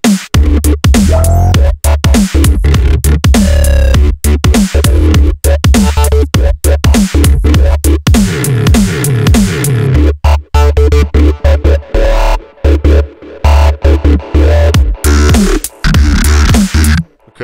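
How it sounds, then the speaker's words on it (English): A punchy dubstep snare hits repeatedly within a dense electronic music arrangement, with loud rhythmic bursts over heavy bass, wobbly synth textures and chopped gaps between phrases. "Today we're going to be making this dubstep snare."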